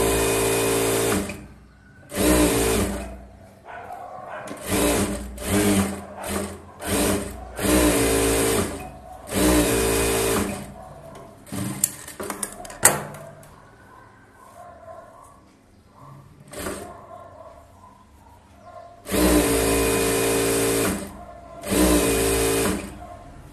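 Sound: sewing machine stitching a blouse

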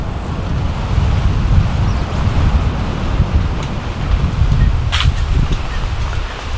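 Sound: strong wind on beach

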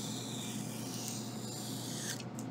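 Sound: beveling the edge of a 3D needlepoint piece

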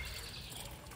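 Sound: heavy rain, water trickling

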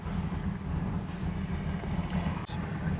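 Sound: 1976 Chevy Camaro engine idling at 500 RPM

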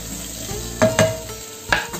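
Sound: green chillies and curry leaves frying in oil

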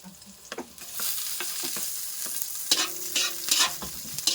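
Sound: stir-frying octopus with garlic for adobo

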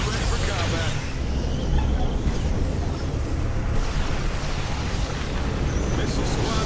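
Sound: ion cannon strike in Tiberium Wars video game

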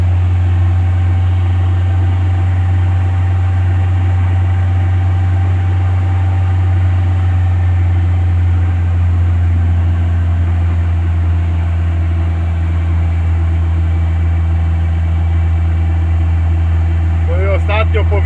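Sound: Żuk van driving, engine running

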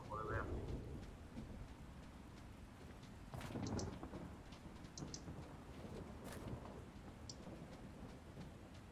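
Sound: heavy rain and thunder in video game

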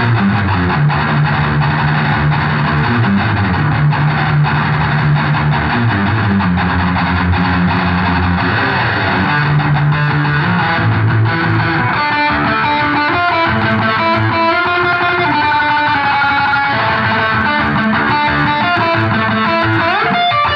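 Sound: electric guitar through distortion effects

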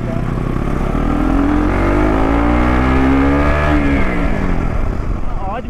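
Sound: KTM motorcycle riding through narrow lanes

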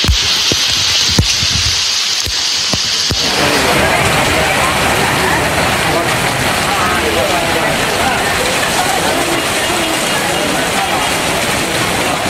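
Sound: summer rain falling

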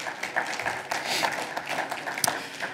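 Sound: applause in church

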